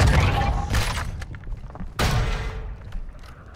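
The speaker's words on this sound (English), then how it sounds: "Our mortar strike is inbound." Mortar strike explosions land in the Call of Duty video game, with heavy booming thuds at the start and a second sharp blast about two seconds in, amid rumbling battle noise.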